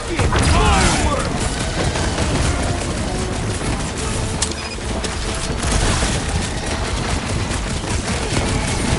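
Rocket-launched fireworks fired during combat in the Guardians of the Galaxy PS4 video game, a dense, loud barrage of bursts and booms running continuously under game music and effects.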